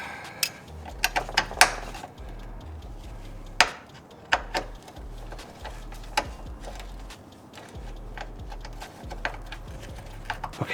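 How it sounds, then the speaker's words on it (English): A ratchet clicks in short, irregular bursts as a bolt is tightened on the bracket of a C5 Corvette big brake kit. Sharp metallic knocks and taps are mixed in, close and fairly quiet, with no talking. "Now I just need to get the bolt back in for the bracket."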